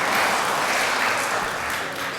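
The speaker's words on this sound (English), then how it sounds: "you can have a round of applause as well" Applause welcoming a new deputy at a Board of Deputies meeting, a room of people clapping steadily and fairly loudly throughout, slightly fading toward the end.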